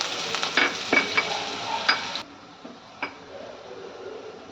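Cumin and chopped onion frying in hot oil for an okra and prawn curry: a loud, steady sizzle with a few sharp ticks and stirring clatters for about two seconds, then a much quieter simmering hiss with one more clink.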